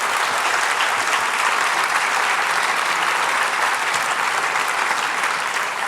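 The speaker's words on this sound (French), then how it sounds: "Applaudissements, vous avez vu." Loud, continuous applause from a large audience at a university academic year opening ceremony, a thick wash of clapping that holds at an even level from start to finish.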